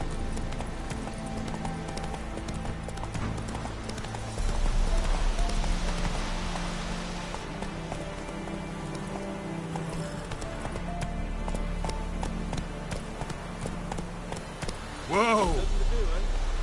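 Roach, the horse in The Witcher video game, gallops with rhythmic clip-clop hoofbeats, then gives a sharp neigh near the end, while a voice talks over the hooves.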